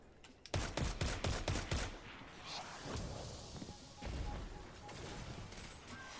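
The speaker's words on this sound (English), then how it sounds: "Scout rifle." Scout rifle fire in Destiny 2 starts as a quick series of loud, evenly spaced shots, then gives way to softer booms and impact rumbles mixed with game ambience.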